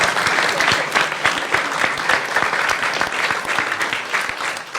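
A dense wave of audience applause at a Wisconsin state budget signing by the governor, steady and fairly loud throughout with many hands clapping at once and no break.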